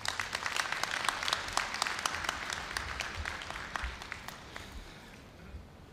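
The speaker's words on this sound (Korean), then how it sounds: "여러분 염재호 총장님을 큰 박수로 맞이해 주시기 바랍니다" Audience applause at a Korea University degree ceremony, greeting the university president, a dense burst of clapping with sharp individual claps that gradually thins and fades away.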